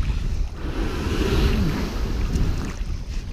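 Stand up paddle board on open water, with steady splashing and wash from paddle strokes under constant wind buffeting on the microphone, fairly close and continuous.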